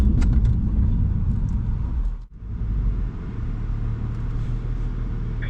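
A BMW car rumbles steadily as it speeds up, then brakes hard with the ABS pulsing, with a brief dip in the noise midway and a steady low road drone throughout.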